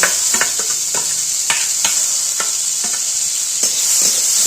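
Mango pieces go into hot oil tempered with dried chilli, giving a loud, steady hiss with scattered sharp crackles and pops throughout, close by and without speech.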